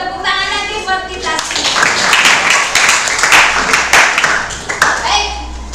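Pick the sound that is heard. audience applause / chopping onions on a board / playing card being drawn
audience applause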